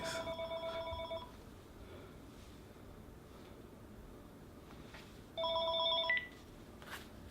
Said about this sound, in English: Next thing you know it, the phone rings.